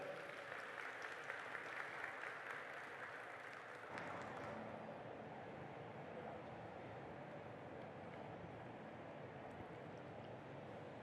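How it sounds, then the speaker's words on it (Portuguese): Applause from the audience at the opening of a national NTU seminar, a faint, distant, steady wash of many hands clapping that softens after the first few seconds and continues evenly. "Uma salva de palmas, por gentileza"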